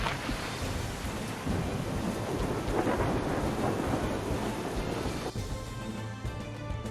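A thunderstorm sound effect plays: steady heavy rain hisses throughout while thunder rolls and rumbles beneath it, loud and continuous for the whole stretch.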